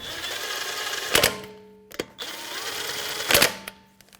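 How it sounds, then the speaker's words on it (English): A power tool with a 19mm socket snugs lug nuts on a Honda CR-V wheel in two short whirring bursts, each ending in a rattling impact, with quiet pauses and a faint hum between them. "we're going to snug up the lug nuts"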